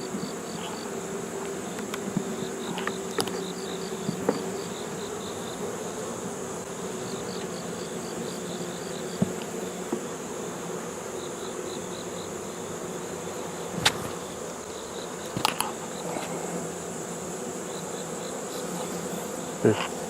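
Honeybees hum steadily around a hive box and a new queen's cage, a dense continuous buzz with occasional individual bees passing close, no voices.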